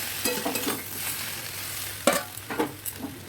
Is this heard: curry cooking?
yes